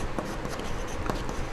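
Chalk or marker scratching across a classroom board during a geography lesson, a steady close scraping texture with brief stroke accents and no speech.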